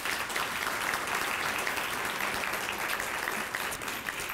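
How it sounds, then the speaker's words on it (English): Steady, even applause fills a luncheon hall as the audience at an environmental awards event for Keep Columbus Beautiful thanks the organizers, a continuous wash of clapping at moderate volume with no talk. "Let's give them a round of applause"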